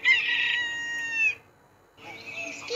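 A rooster crows loudly in a long drawn-out call, then a shorter second crow follows after a brief pause, with nothing else over it.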